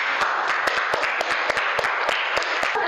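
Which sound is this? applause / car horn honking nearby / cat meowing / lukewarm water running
applause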